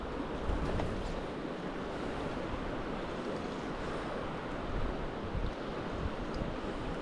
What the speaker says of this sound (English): It's a bit of wind, a bit too much wind almost.